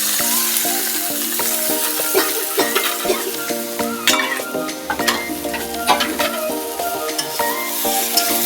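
Mixed vegetables with fried cauliflower stirred in a hot pan, a close, continuous sizzle broken by frequent scraping and clinking stir strokes.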